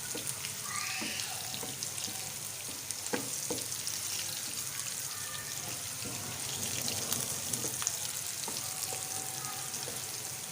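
Steady frying sizzle of onions browning with cumin and chillies, with faint scraping and clinking of a stirring utensil, continuous and close, no talking.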